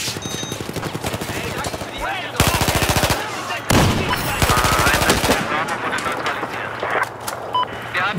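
Rapid automatic gunfire bursts from the video game Battlefield 4, several sharp rattling volleys at close range amid game effects, with a player's voice talking faintly at times.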